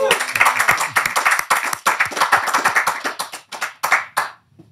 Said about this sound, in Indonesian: tepuk tangan buat Vina Panduwinata